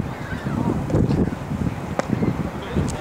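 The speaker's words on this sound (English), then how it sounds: "A brisk wind today, 15 miles an hour or more." Brisk wind of 15 miles an hour or more rushing across the microphone at an outdoor high school varsity baseball game, a steady low buffeting roar with faint distant crowd sounds underneath.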